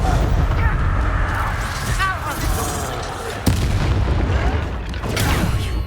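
Bombarda spell explosions in Hogwarts Legacy, the game's combat erupting in loud, continuous booming blasts and rumbling impacts, with one sharp crack mid-fight.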